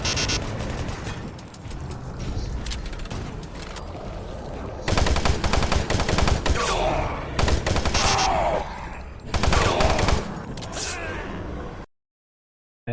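Sustained rapid gunfire blasts at an enemy in the video game Doom 3: Resurrection of Evil, loud dense bursts with heavier surges midway, ending in abrupt silence.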